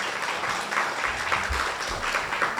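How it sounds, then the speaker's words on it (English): An audience at a museum curator's talk applauds warmly, a steady, even wash of clapping at moderate distance with no talking over it. "I think he deserves a round of applause."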